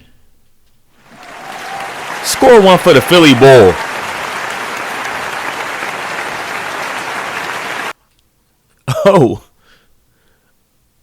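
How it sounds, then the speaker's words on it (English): An audience applauds in a steady round lasting several seconds, with someone talking loudly over the start of it. The clapping cuts off abruptly, then a brief burst of voice follows. "Let me get a round of applause for that"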